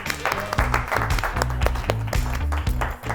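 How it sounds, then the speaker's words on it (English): Round of applause for a participant during a group training simulation, a small room of people clapping over a rhythmic background with a thumping beat. "let's give a round of applause for Raul"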